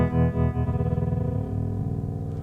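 A sustained, distorted electric guitar chord rings through a custom volume-swell effect pedal, its level pulsing and wavering rhythmically before settling into a smoother held tone, loud and close, with no talking.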